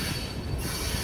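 Long CSX freight train passing between Waycross and Nahunta, Georgia, its wheels squealing and cars rumbling in a continuous broadband roar close by, with no voices.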